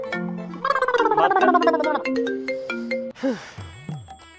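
A mobile phone ringtone plays a bright, chiming melody of repeated electronic tones, clear and close, with a brief gargling-like burst near the end.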